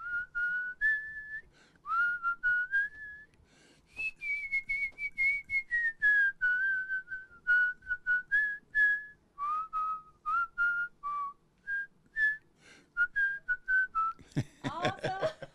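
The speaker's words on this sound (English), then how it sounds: "Trying the whistle." A man whistles a tune alone, a clear, bright melody rising and falling in phrases with short pauses between them, close and solo, ending with a burst of noise.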